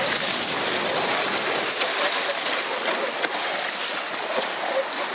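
Dog sled crossing a creek on the Iditarod trail near Unalakleet, with a steady broadband rush of water and runner splashes filling the whole stretch, loud and close, with no clear voices.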